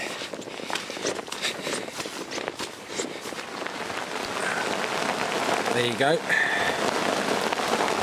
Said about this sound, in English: And the rain is absolutely lashing it down.